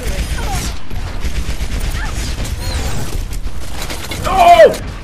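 Bastion's sentry gun in the shooter game Overwatch fires a dense, rapid stream of mechanical, rattling gunfire, mixed with other game sounds and growing louder toward the end.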